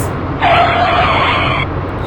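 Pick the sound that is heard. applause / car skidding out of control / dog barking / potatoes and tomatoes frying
car skidding out of control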